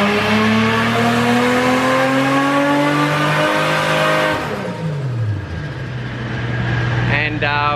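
A Toyota Supra fitted with a Haltech ECU revs hard on a dyno, its engine note climbing steadily in pitch and then falling away, loud and close, before it rises again briefly.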